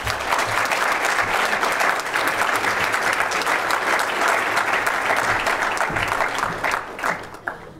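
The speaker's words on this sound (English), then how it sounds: "another round of applause" A conference audience at a medical association session applauds, sustained dense clapping from many hands that thins and fades out near the end.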